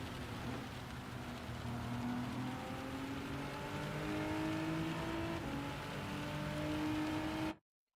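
In Gran Turismo 7, a race car engine drones and climbs in pitch through gears on a wet track, with a steady hiss of rain beneath it, all cutting off abruptly at the end.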